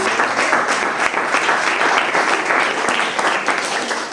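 A hall audience at an anniversary award celebration applauds a recipient, steady, dense clapping that stays loud and close for the whole stretch without voices over it.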